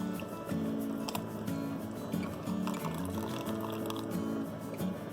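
A blended buttermilk mixture for mor kuzhambu pours into a cooking pot with a continuous liquid splashing and gurgling, fairly quiet against a busy kitchen background.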